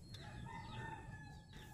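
Chickens cluck and crow nearby, a steady run of fowl calls with one rising crow-like note over a low, noisy barnyard background.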